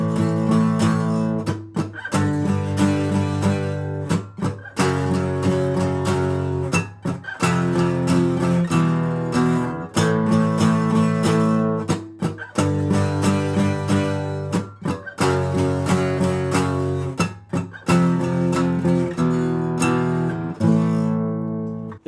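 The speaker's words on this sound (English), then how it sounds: "I'm going to actually hit the guitar and create some of those muted strums" Electric guitar playing power chords, loud distorted chords in a steady pattern broken by short percussive muted strums, repeating over and over and ending on a ringing chord.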